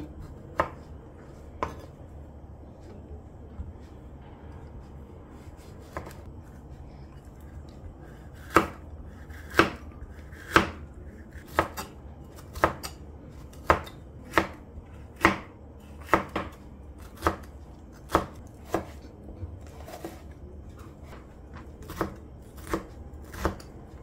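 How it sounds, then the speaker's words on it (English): A knife chops vegetables into fine cubes on a board in crisp, close strikes, sparse at first and then settling into a fairly steady, rapid rhythm. "You see, we chop in fine cubes."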